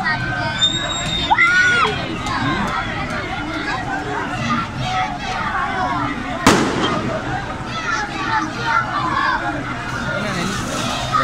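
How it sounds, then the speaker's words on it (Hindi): Celebratory gunfire and firecrackers at a victory celebration in Neelum Valley, loud bangs and crackling bursts scattered through the clip over a noisy crowd, with shouting children and people talking nearby. "सब कुछ है फायरिंग कर रहे हैं, जाकर गोले फिर फायरिंग कर रहे हैं"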